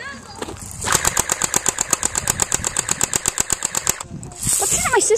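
Rapid machine gun fire from a video game rattles in a loud, even burst of about twenty shots over three seconds, with game noise before and after the burst.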